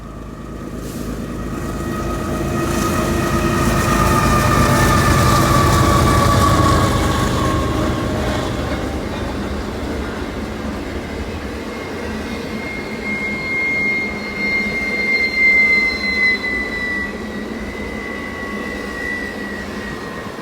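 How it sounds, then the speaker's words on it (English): A BNSF eastbound stack train climbing a large grade at Houlihan's Curve rumbles past in a long, loud swell that peaks early and then fades, with steady wheel and engine drone and faint high squeals. "we shoot an eastbound stack train at Houlihan's Curve as it begins to climb the large grade"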